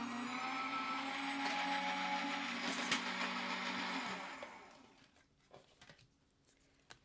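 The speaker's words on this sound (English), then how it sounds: "I'm just going to run that through my die machine real quickly" An electric die cutting machine runs for a card-making project, giving a loud steady motorized whine and hum for about four seconds before it winds down, followed by faint handling clicks.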